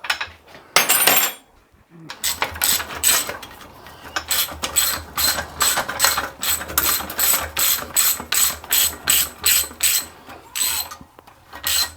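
Rapid ratchet clicking from a socket wrench fitted with Whitworth sockets turning bolts on a J.A.P. water pump, coming in repeated close bursts of clicks after a short metallic clatter, with no talk.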